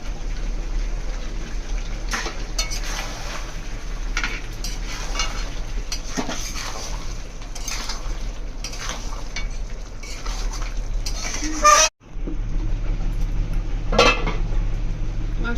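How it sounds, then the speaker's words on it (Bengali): Mutton stir-fried in a pan for a Bengali curry, with irregular scraping and clinking of a spatula against the pan over a soft background sizzle, plus a brief sharp knock near the end. "মাংসটা আমার একদম কষানো হয়ে গেছে"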